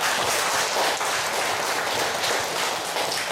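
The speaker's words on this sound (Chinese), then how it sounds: "请掌声欢迎" An audience claps steadily to welcome a speaker to the front of a law-academy lecture class; the dense, even applause fills the room without a break and no one speaks over it.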